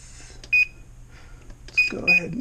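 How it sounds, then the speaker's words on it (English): An oven timer being set gives three short, sharp electronic beeps, one then a quick pair, in a quiet kitchen, with a brief voice murmuring near the end. "set the timer"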